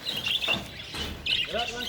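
Bright, high budgie chirps and warbles twittering in quick bursts, close by, with a voice talking under them.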